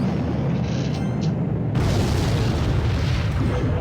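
A rocket spell in the mobile card game Clash Royale, landing as a heavy low boom that gives way to a sustained rumbling roar amid game noise, with no voices.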